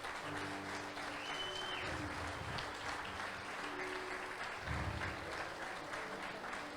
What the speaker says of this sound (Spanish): Y así, denle un aplauso al Señor.